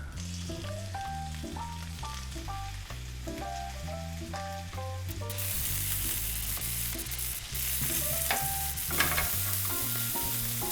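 Sausages for currywurst fry in a tablespoon of butter on a griddle pan, a steady hiss that swells louder halfway through and sits under prominent background music.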